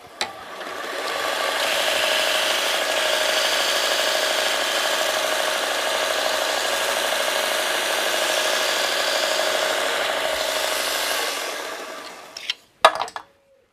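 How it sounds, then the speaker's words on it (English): A roughing gouge is ground on a running linisher, giving a steady abrasive rasp and motor hum that hold for about eleven seconds before winding down, followed by a few short knocks. "let's head over to the linisher and give it a quick sharpen"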